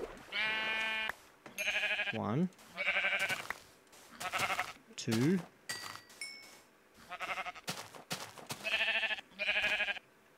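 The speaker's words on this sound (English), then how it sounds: "Sheep. Come here, sheep." Sheep in the Minecraft video game bleat several times in short, wavering cries, heard between a player's spoken counting.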